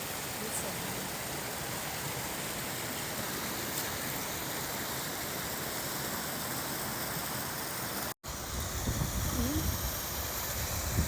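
A rushing mountain river gives a steady, dense roar that stays even and continuous throughout, with a brief cut near the end before the flow noise resumes.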